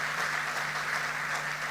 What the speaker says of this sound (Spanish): dale ese aplauso